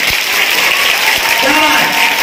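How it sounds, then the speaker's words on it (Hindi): Audience applause at a college naat recitation competition, a continuous wash of clapping filling the whole stretch, moderately loud, with a voice talking over it partway through. "तालियां होनी चाहिए।"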